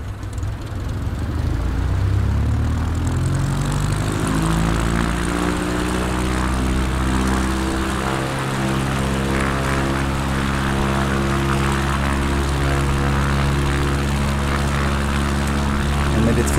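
An ERCO 415 propeller plane in a flight simulator runs its engine at full throttle for takeoff, a loud, steady drone with rising harmonic tone as revs build, continuous throughout with no talk.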